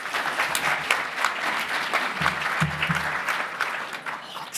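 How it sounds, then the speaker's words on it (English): Sustained audience applause at a conference session, dense clapping from many hands continuing throughout, with a faint low murmur partway through. "So give Lisa a round of applause"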